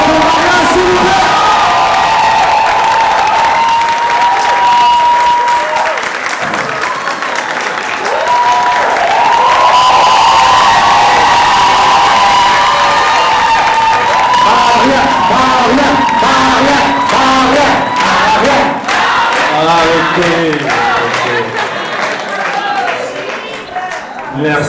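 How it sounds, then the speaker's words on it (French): An audience applauds and cheers loudly after a live stage show, sustained dense clapping with whoops and shouts for over twenty seconds as a voice speaks over it. "Est-ce qu'on peut applaudir encore très fort pour Maria, s'il vous plaît?"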